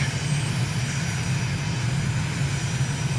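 A steady, droning aircraft engine in Microsoft Flight Simulator on landing approach with gear and flaps down, a continuous close propeller hum at constant loudness throughout.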